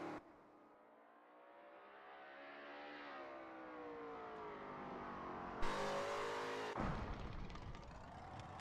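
Lola T70 MkII Spyder race cars warm up at Spa in a racing video game, one engine building from a quieter hum into a rising roar, then breaking into louder, harsher bursts near the end.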